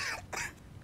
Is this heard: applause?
no